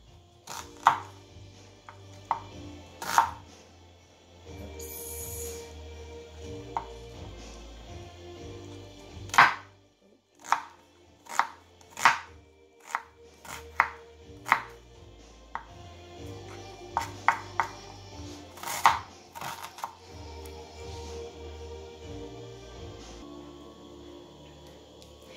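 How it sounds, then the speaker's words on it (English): Knife chopping onions on a board for a homemade burrito: a series of sharp, close cuts in irregular bursts with pauses between them, over a soft background of music. "I am going to cut my ingredients here. Start from the onions."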